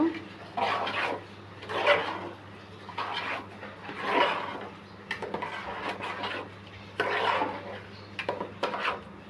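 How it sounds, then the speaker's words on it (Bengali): Biryani ingredients stirred in a cooking pot, a steady scraping and rubbing of spoon against metal in repeated bursts, with faint clinks over a low hum and no talking. "আবার ভালোভাবে নেড়ে নেব।"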